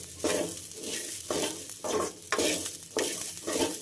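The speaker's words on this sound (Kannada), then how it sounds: "ಈ ರೀತಿ ಕೈ ಬಿಡ್ದಂಗೆ ಮೀಡಿಯಮ್ ಫ್ಲೇಮಲ್ಲಿ ನೀಟಾಗಿ ಹುರ್ಕೋತಾ ಹೋಗಿ" Sweet corn kernels stir-roasted in a pan over a medium flame for masala corn chaat, a steady dry sizzle broken by repeated scraping stirs every half second or so, close and fairly loud, no talking.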